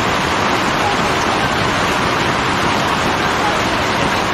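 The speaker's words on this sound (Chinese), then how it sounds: "这雨来得太大了" Heavy rain pours down in a torrent like a waterfall over a campervan yard during a violent rainstorm, a loud, dense and steady roar of water with no break, filling the whole clip.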